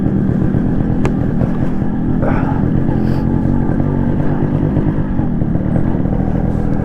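A Yamaha RX135 motorcycle engine drones steadily at close range throughout, a continuous low rumble with slight shifts in pitch as the bike rides along mountain roads.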